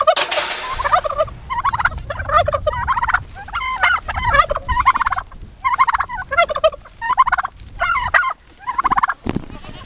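Repeated turkey gobbles in quick bursts, several birds calling one after another, loud and close with a brief windy rustle at the start.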